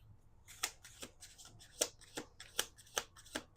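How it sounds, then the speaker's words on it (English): Tarot cards are shuffled by hand in a series of quick, crisp riffling bursts, close and quiet, irregular in rhythm with no talking. "2 more shuffles"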